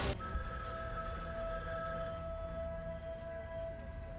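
An old-fashioned telephone rings in a Supergirl episode scene as a faint, steady ringing tone over a low background hum, with no talking.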